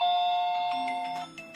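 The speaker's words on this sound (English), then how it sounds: "You press doorbell." Electronic doorbell chime from an OSPON OS359FA face-ID Wi-Fi smart lock, a steady tonal melody of a few ringing notes, close and clear with no talking.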